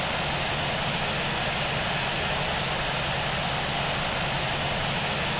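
Boeing 787-9 jet engines in the Infinite Flight simulator give a steady, broadband roar while taxiing. The rumble holds constant and moderately loud throughout, with no talk over it.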